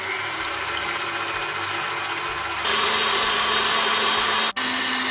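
A stand mixer whips cream for a coffee semifreddo, a steady loud motor whir running throughout, stepping up to a higher speed partway and briefly cutting out for an instant near the end.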